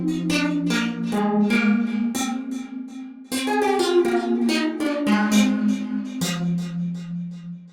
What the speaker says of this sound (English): Let's load this preset called harp.